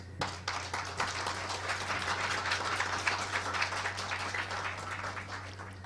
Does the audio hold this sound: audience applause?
yes